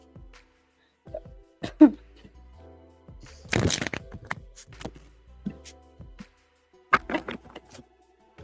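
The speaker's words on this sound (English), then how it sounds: "let me shuffle real quick for this question." Tarot cards are shuffled by hand in a few short bursts of riffling and flicking, with a louder dense shuffle in the middle and quiet pauses between.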